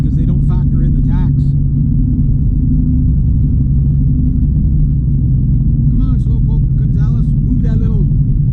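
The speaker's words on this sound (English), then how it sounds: "That little shitbox Honda 4-banger." A small Honda four-cylinder car rumbles past nearby with a loud, steady low engine drone, while people talk over it at the start and end.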